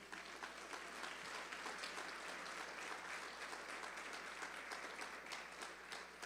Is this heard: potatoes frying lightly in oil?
no